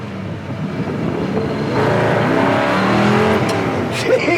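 A 1969 GMC K1500 pickup truck driving, its engine droning steadily and rising slightly in pitch as it pulls along, heard from inside the cab with wind noise and brief faint voices.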